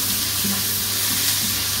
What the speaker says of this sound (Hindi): अब मैं इसे थोड़ा भून लूंगी ताकि प्याज नरम पड़ जाए ना अच्छे से